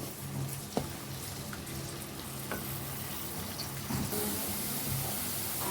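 Onions browning in hot oil in a pan for Punjabi kadhi pakora, a soft continuous sizzle and crackle with an occasional clink of a utensil, fairly quiet and close.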